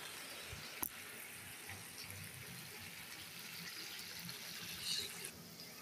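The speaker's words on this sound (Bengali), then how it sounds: "দেখতেই পাচ্ছেন প্রচুর বৃষ্টি হইতেছে। হ্যাঁ, মানে অনেক জোরে বৃষ্টি নামছে।" Heavy rain falling outside, a soft continuous hiss that stays steady throughout, with a single sharp click near the start.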